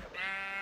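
A single short bleat from a sheep in the Minecraft video game, clear and close, lasting under a second.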